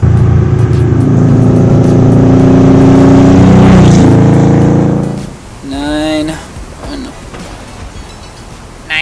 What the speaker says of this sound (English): this Porsche 911 is ready to rumble!